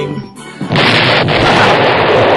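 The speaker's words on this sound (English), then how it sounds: "Do you have an explosion sound?" A loud explosion sound effect bursts in and holds a dense, roaring rumble for about two seconds, with no speech over it.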